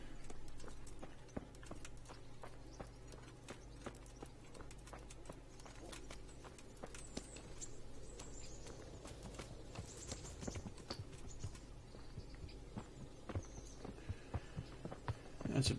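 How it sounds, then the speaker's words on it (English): Horse hooves clip-clop at a walking pace in the medieval video game Kingdom Come: Deliverance, a steady run of crisp close hoofbeats over a low ambient hum, with no speech. "That's a beautiful horse."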